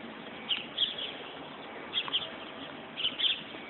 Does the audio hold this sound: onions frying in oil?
no